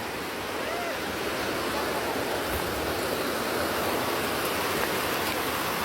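Steady broadband rushing of flowing water, continuous and fairly loud, like a river running close by with no clear breaks.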